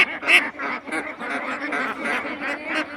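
Ducks quack loudly at feeding time on a farm, a dense overlapping flock of nasal calls repeating rapidly and close by, with no talking over them.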